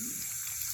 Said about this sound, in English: we get some black water pouring out of there